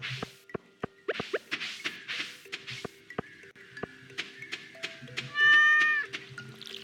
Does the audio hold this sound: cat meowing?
yes